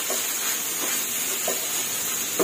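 Shrimp fried rice with onion stir-fried dry in a pan gives a steady hiss and sizzle, broken every second or so by short scrapes and tosses of the spatula.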